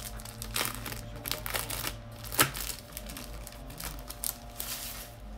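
Crinkly plastic packaging from a small haul is handled and pulled open up close, irregular crackling and rustling bursts with a sharper snap midway, no talking.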